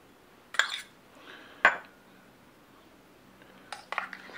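Ingredients go into a small saucepan for a whiskey glaze on a pork loin roast: three sharp clinks of utensils and glass against metal, separated by quiet pauses, close and clear with no talking.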